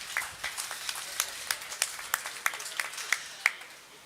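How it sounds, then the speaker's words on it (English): A small audience at a county fair breeding beef and sheep show claps for the judge, a sparse, quiet scatter of individual claps at moderate distance, steady and unaccompanied by talk. "Let's give him a round of applause."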